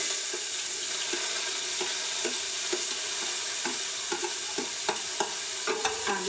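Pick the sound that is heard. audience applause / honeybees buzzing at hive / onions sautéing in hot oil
onions sautéing in hot oil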